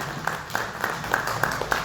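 Applause for a church choir during a Sunday worship service, a steady patter of clapping with regular sharper peaks, fairly faint and even throughout.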